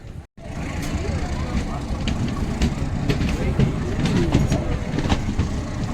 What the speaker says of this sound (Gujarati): ગીરના જંગલમાંથી આપણી ટ્રેન પસાર થઈ રહી છે